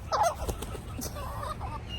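Bird calls from nearby roosters, one sharp squawk at the start followed by softer crowing and clucking against a low background rumble.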